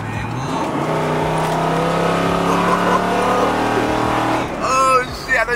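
A box Chevy Monte Carlo drives with a steady, droning engine hum and road noise throughout, the engine note holding fairly constant, with a short burst of talking near the end.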